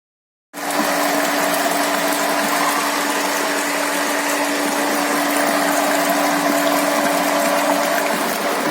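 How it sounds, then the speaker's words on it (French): Water gushes through household pipes after the supply is restored in a house under renovation, starting abruptly and running steadily with a constant hiss and a faint pump-like hum, close and loud, with no voices. "en tout cas l'eau coule dans la maison"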